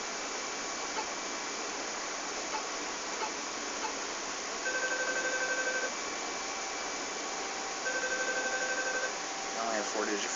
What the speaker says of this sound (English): He's going to use the phone, and we're going to call that number we saw behind the zombie.